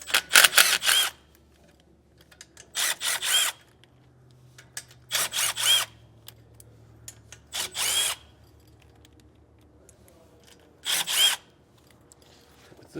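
Power tool bursts, an impact driver or drill spinning off five 9/16 nuts from a trailer brake drum during an electric-over-hydraulic actuator install on a 2018 Keystone. There are five separate whirring bursts of about a second each, close and loud, with quiet pauses between them.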